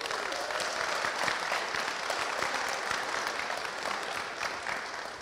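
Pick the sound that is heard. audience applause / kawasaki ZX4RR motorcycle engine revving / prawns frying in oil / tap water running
audience applause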